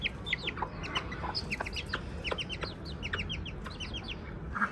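A hen and her three chicks clucking and peeping nearby, with repeated short high chirps over a steady low background of farmyard noise.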